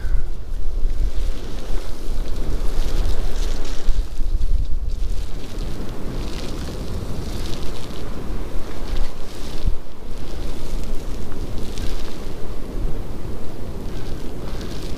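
Strong wind gusting at the top of Cowrock Mountain on the Appalachian Trail, a loud, continuous roar buffeting the microphone, rising and falling in waves.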